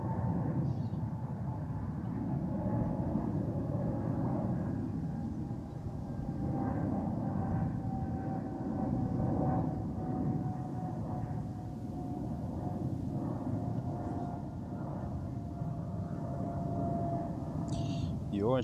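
A KLM airliner in Orange Pride livery arriving at Amsterdam Schiphol on a windy day, a steady distant engine roar and whine lasting throughout, with people talking quietly over it.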